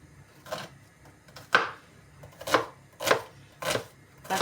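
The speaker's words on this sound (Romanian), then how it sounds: "Am zis să toc ceapa." A knife chops onion on a board in a home kitchen: about six crisp, close strikes in a slow, even rhythm, with no talking.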